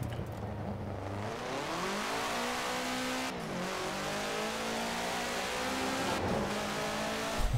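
A sports car engine in the racing game Forza Horizon 4 revs hard and climbs through the gears, with brief dips between shifts and a steady roar.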